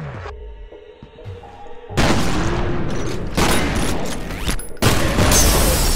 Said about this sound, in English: I made him miss his nade, Chuck.